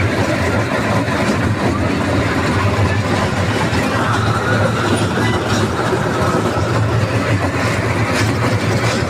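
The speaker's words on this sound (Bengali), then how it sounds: "ট্রেনে চড়ছি আর কি, বাচ্চাদের ট্রেন" A small children's ride train runs along with a steady, loud rumble and rhythmic wheel clatter heard from aboard, lasting throughout with only faint voices in the background.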